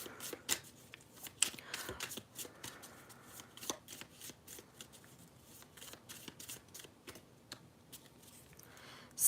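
Oracle cards in a tarot-style deck are shuffled by hand in close, quiet bursts of riffling and slapping, with irregular pauses between handfuls.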